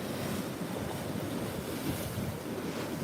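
Ocean waves surging and crashing against volcanic basalt rocks on a windy coast, a continuous loud roar of surf with wind buffeting the microphone throughout.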